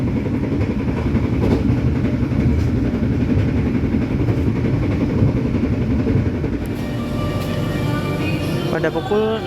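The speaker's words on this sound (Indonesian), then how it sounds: "Pada pukul 16:20 kereta api Ranggajati telah tiba di stasiun Gombong" The Ranggajati executive-class train pulls into Gombong station, a loud continuous rumble of rolling wagons heard from on board, with a rising squeal of brakes near the end.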